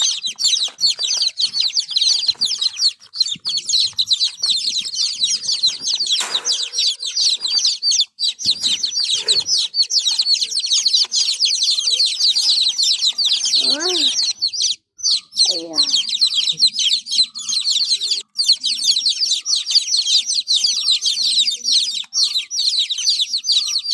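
Loud, constant high-pitched peeping from many native country chicks close by, with a few brief rustles and a hen's low cluck in the background.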